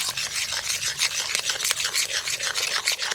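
A utensil stirs pizza sauce with black pepper and chopped garlic in a pan, producing a rapid, rhythmic scraping and rubbing that repeats without pause, close and fairly loud.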